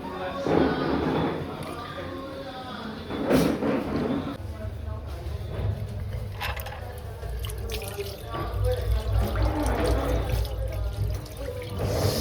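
Water runs from a hotel washbasin tap in Matheran and splashes into the sink, with drips and pouring close by while people talk over it.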